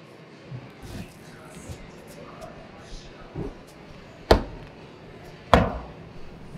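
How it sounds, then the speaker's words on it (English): Faint scuffs and shuffles, then two sharp, loud thuds as climbing shoes strike a hard climbing wall and holds, spaced about a second apart. "That is the noise of my feet hitting the wall or a hold."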